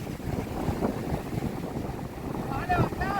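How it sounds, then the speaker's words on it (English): Strong wind sweeps a Florida beach before a hurricane, a constant rumbling gust against the microphone that swells in bursts, with a voice heard briefly near the end. "That wind is something serious."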